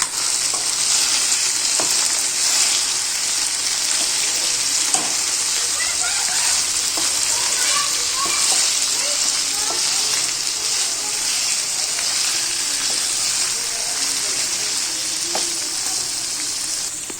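Steady loud sizzling of chicken frying in a pan with soft scraping and stirring sounds throughout, continuous and close.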